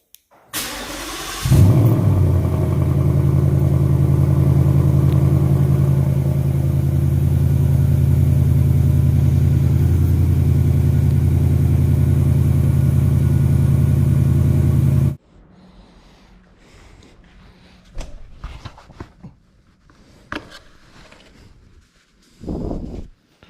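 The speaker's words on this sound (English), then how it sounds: "next you'll start your motor" A Ford Mustang 5.0 engine cranks and catches, then runs at a steady loud idle for about thirteen seconds before cutting off, followed by faint scattered clicks and handling noises.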